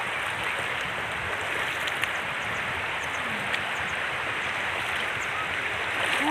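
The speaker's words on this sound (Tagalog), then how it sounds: "Daraitan River." Clear Daraitan River in Tanay, Rizal, flowing over mossy rocks: a continuous gurgling, rushing stream heard close by, steady throughout, with a few faint clicks and no speech.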